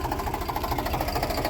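A tractor engine runs on a pilgrimage route to Dwarka, a loud, close, steady chugging throb with a fast, even pulse and no voices.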